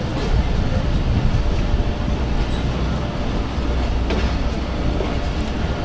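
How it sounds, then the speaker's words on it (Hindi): A fully loaded Khyber Mail passenger train rolls past on the line near Attock and Rawalpindi, its loud steady rumble and clickety-clack of wheels on rail joints filling the whole stretch close by. "खैबर मेल यहाँ स्टॉप ना करती तो शायद एक थ्रू पास सेक्शन देखने को मिलता"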